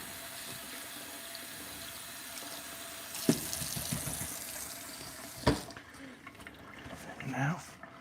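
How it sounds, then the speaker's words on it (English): Running tap water pours steadily into a sink while steel wool is rinsed under it, a faint, continuous splash with a few louder knocks and swishes, and a voice briefly speaking near the end. "Rinse out your steel wool."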